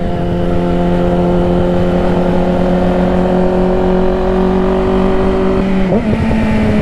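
Exhaust of a Yamaha R6 sport motorcycle droning loud and close as a steady high-revving engine tone, with a short dip and rise in pitch near the end.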